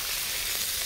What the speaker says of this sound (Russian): Чуть-чуть поджарим и будем добавлять овощи.